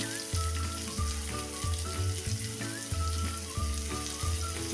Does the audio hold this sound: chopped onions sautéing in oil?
yes